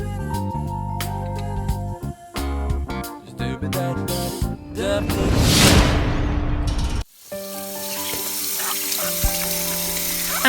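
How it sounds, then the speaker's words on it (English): Cold tap water splashes steadily over lemons being washed, beneath loud background music, swelling into a fuller gush midway before the music carries on. "I'm gonna wash the lemons in cold running water with baking soda."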